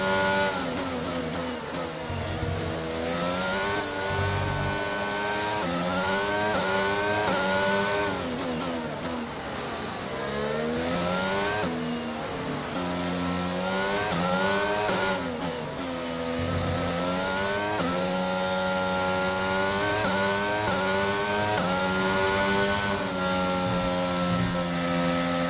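A Formula 1 car's engine howls through the F1 22 video game at the Singapore round, rising and falling in pitch as it revs through gear changes under acceleration. It stays loud and continuous throughout, with no talking.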